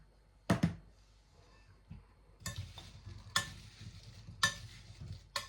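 Crumbled apples being stirred together with a pinch of ground cinnamon for an apple crumble, giving soft scraping and clattering strokes in irregular bursts, close and fairly quiet with no talking.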